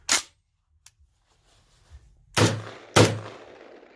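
A Kalashnikov USA Komrad 12 shotgun loaded with light loads fires several sharp reports: one early, then two close together near the end, with quiet gaps and faint handling clicks between.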